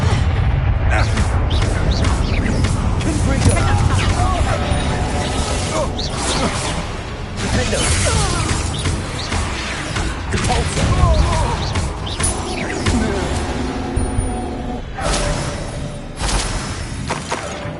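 Confringo fire blast spell exploding in the video game Hogwarts Legacy, a burst of crashing, whooshing impacts amid a loud, dense mix of game effects and rumbling low end, with spoken voices in the background.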